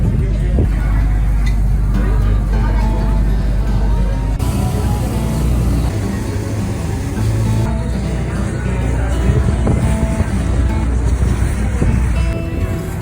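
A tour boat engine rumbles steadily while water rushes past the hull in Miami, with wind noise and occasional voices mixed into the loud, continuous drone.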